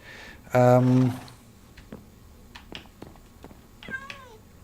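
A pet cat gives one loud, clear meow close by, followed by quiet room sounds with faint clicks and a brief softer chirp near the end.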